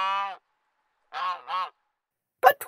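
A goose honks in a told story, one long honk followed by a doubled pair of honks and then a short harsh squawk, each clear and close against silence.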